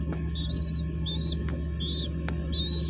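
Young domestic pigeons kept in a coop, with soft repeated chirping calls over a steady low hum, four short peeping phrases close by.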